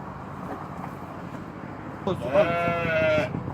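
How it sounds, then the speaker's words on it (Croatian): A sheep lets out one wavering bleat, close by and fairly loud, lasting about a second near the end of the clip. Low farmyard background noise comes before it, and there is no talk. "Gdje su ovce? Gdje? Ovo su ovce."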